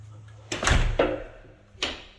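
A heavy-duty door on a small porch swings open with a loud thud and low rumble, followed by a sharp knock and a second softer bump, close and without talk.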